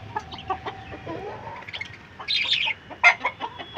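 Calls and clucking from native country chicken roosters kept on a rooftop terrace, with a brief louder squawk midway and scattered chirps, in a quiet outdoor setting.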